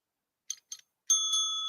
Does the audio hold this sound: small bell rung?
yes